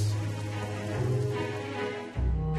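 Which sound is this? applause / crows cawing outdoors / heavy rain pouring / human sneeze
heavy rain pouring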